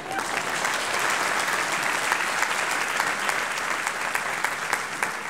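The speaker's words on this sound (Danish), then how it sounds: "Jeg er vant til, at man klapper ind til et landsmøde." Audience applause fills a meeting hall at a national assembly, steady dense clapping throughout with a few sharper claps standing out.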